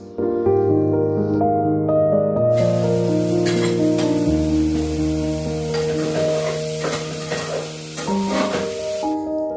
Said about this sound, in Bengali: আর এই সবজিগুলোকে ঢেকে ঢেকে ভাজবো, যাতে একটুখানি সেদ্ধ হালকা হয়ে যায় আর ভাজাটাও হয়ে যায়